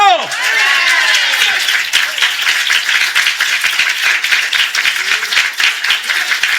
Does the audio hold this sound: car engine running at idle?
no